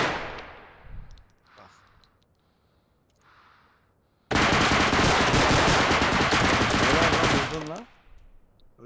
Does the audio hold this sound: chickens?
no